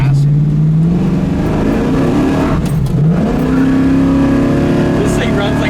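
A 1971 Camaro Z28 V8 roars loud and close on a test drive, its engine note climbing through a hard acceleration, dipping briefly at a shift, then pulling up again, with a voice over the engine.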